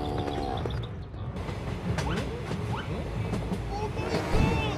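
Cartoon train clattering along rails, a steady rolling rumble with rhythmic clicks and a few sharp squeals, under excited voices talking over it.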